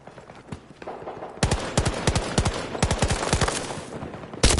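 Bursts of automatic gunfire from the shooter game Battlefield 2042, a quieter stretch of scattered shots giving way to loud rapid volleys with short pauses between them.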